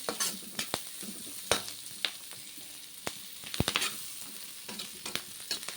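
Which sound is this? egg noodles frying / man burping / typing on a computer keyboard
egg noodles frying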